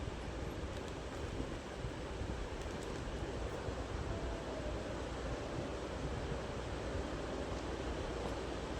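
A mixer grinder dry-grinds roasted spices into powder, whirring continuously at steady volume, a dense grinding roar with no pauses for the whole stretch.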